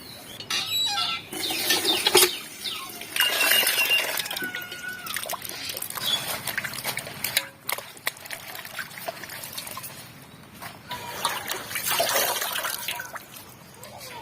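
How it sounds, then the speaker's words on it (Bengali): Tender young leaves rinsed by hand in a basin of water, with splashing, trickling and dripping throughout, fairly close, plus scattered clattering handling sounds and faint fowl clucking in the background. "পাতাগুলো ধুয়ে নেব।"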